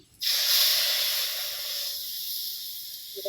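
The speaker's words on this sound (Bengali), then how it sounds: "মশলাটা কষিয়ে নিতেছি" Spice masala hitting hot oil, a loud sudden hiss that bursts in near the start and settles into a steady sizzle, fading slightly before a brief new sound at the end.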